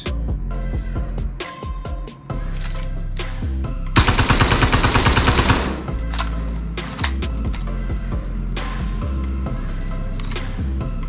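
Gunfire rattles through a Star Citizen firefight, rapid automatic bursts crackling over a busy game soundscape, with one dense, loud volley lasting about two seconds near the middle and scattered shots around it.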